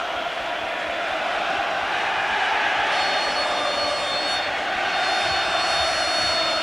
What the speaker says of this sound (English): This crowd is going berserk.